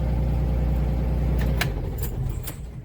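A truck engine idles with a steady low rumble, then shuts down partway through; the drone drops away, followed by a few light clicks and faint rattles inside the cab.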